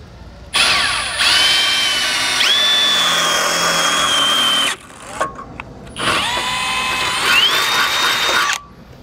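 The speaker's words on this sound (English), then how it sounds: "I'm gonna take my 11/32 drill bit and I'm gonna drill out our holes." An electric power drill boring holes in a trailer tongue with an 11/32 bit while a curt shock-absorbing towing kit is installed: two long, loud, steady whining runs with pitch shifts as the bit bites, separated by a short pause.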